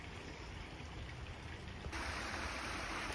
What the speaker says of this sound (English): There's a cute little waterfalls here.